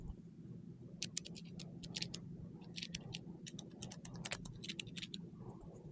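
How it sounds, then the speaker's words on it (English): A Sylent silent clicker pen clicks softly in a string of faint, irregular ticks, several spaced out over a few seconds, heard close against a low steady background hum. "So you can hear that the clicking of this thing is pretty silent."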